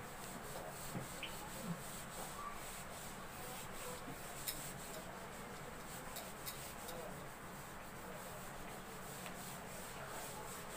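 A board eraser rubbing chalk or marker writing off a board in a classroom-style setting, a steady, soft scrubbing texture that runs continuously without pause for about ten seconds at low level.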